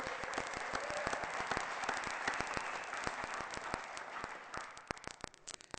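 Audience applause at a summit presentation in Jackson, Wyoming: dense, steady clapping from a crowd, fairly even and moderately loud, thinning toward the end into scattered individual claps.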